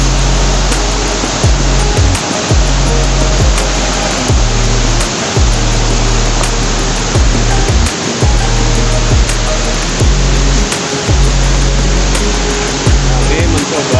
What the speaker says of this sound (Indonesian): Debit airnya sedang meningkat ini guys,